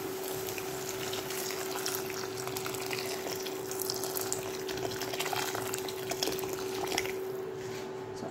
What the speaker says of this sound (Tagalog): Nalagyan na tayo ng tubig.